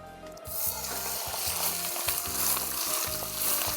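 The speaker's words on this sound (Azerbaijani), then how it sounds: "Biraz yağ, tavamız artıq isinib, toyuğumuzu göndəririk tavaya," Chicken pieces frying in hot oil in a pan, a steady close sizzle with soft stirring scrapes and no voices.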